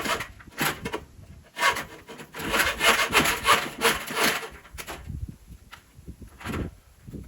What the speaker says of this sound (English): Got my new hacksaw blade. Let's go ahead and do the first cut.